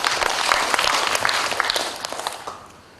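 Audience applause at a Balinese official ceremony, a broad dense clapping wash that holds steady and then tapers off over the last half second.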